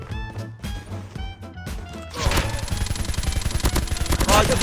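Rapid automatic MK2 gunfire in Call of Duty Mobile cuts in after a stretch of game music, a loud, dense run of close shots that continues to the end.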